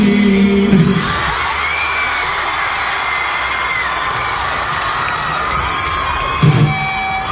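A large concert crowd roars and shouts continuously, with a brief louder swell of yelling at the start and again near the end; no distinct chant words stand out.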